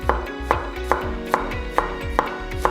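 A knife slices through fresh ginger on a board in about seven steady, evenly spaced cuts, each a close, crisp thud, with no voices.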